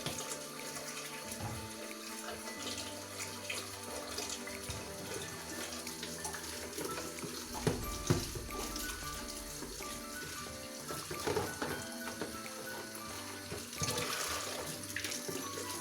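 Hot water runs steadily from a kitchen tap for hand-washing dishes, a continuous soft splashing stream with occasional clinks and louder surges as items pass under the flow.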